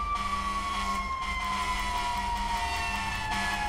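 A fire truck siren wails continuously in a video game, loud and close, with a low horn blaring underneath throughout.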